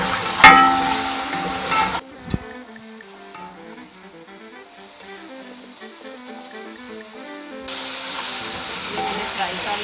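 Quail (batair) frying in a pan with salt hiss and sizzle loudly at the start and again at the end, with a quieter musical passage in between.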